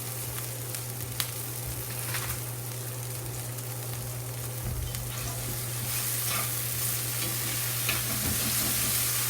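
Cremini mushrooms and potatoes sautéing in an oiled skillet, a continuous close sizzle with occasional stirring scrapes over a steady low kitchen hum, no talk.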